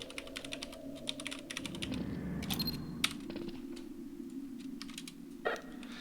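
Quick bursts of keyboard typing in a Half-Life 2 roleplay session as a radio message is entered, soft and close, in several short runs with brief pauses and a faint mechanical click near the end.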